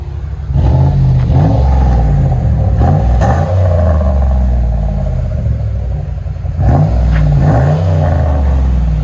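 A Lincoln Continental Mark 8 4.6L V8 with both mufflers cut off revs loudly and up close, a deep rumbling idle rising into two burbling throttle blips that fall back again.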